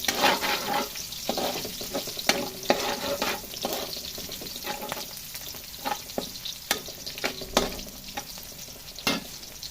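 Ulam ingredients sauté in a hot pan for a Kapampangan bianda dish, a steady close sizzle and frying hiss with repeated sharp clatters of a utensil stirring and scraping throughout.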